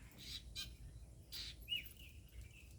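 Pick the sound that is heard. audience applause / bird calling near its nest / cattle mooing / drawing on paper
bird calling near its nest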